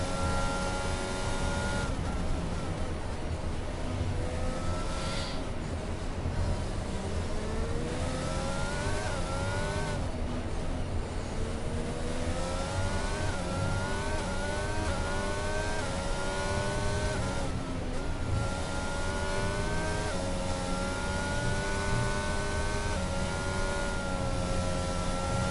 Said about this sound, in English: And right on board with Matthew Stotts on his way around the circuit.